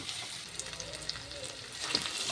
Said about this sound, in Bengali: যেহেতু চিকেন বানাচ্ছি সেই জন্যে আমি পেঁয়াজটাকে একটু লাল করে ভেজে নেব।